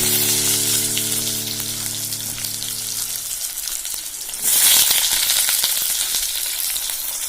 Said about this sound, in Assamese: মই আলুখিনি দি আছো আলুখিনি ফ্ৰাই কৰিম যিহেতু তেল বহুত ধুনিয়াকে গৰম হৈ গৈছে